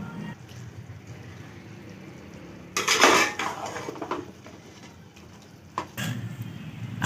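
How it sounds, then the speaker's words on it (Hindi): Green beans and potatoes are stirred in a metal cooking pot, producing close scraping and clattering of a spoon against the pot in two louder bursts over a quieter background. "अभी हम इसमें देखें अच्छी तरह से मिक्स कर रहे हैं, चलाते जाएं थोड़ा सा।"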